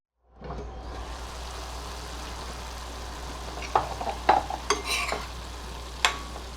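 French beans for a simple Marathi-style sabji are stirred as they cook in a pan, a steady soft sizzle with a low hum underneath and several sharp spatula scrapes and clinks toward the end.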